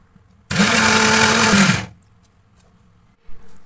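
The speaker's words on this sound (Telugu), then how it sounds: "చాక్లెట్ పౌడర్ నెయ్యి వేసిన తర్వాత మళ్ళీ గ్రైండ్ చేసుకుందాం ఒకసారి." A mixer grinder blends chocolate powder with ghee for homemade Nutella, starting abruptly with a loud, close whirring roar. The roar holds steady for over a second, then cuts off into quiet with a faint knock afterward.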